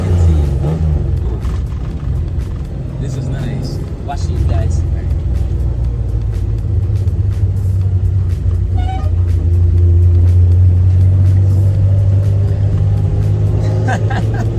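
A 1971 Nissan Skyline Hakosuka classic car idles with a steady, loud low engine rumble throughout, nearby, swelling slightly in the second half while people talk over it.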